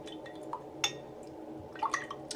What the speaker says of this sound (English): I have a container for cleaning my brush. That would be the dirty water that I'm cleaning in right now.